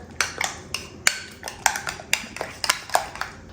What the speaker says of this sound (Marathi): हे जे दही आहे ना मी छान असं फेटून घेते अगोदर